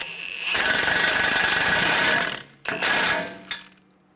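A ratchet wrench snugs a nut onto the steering knuckle of a 2011-2014 Hyundai Sonata, giving a loud close burst of rapid clicking that runs about two seconds, then a shorter second burst and a final single click.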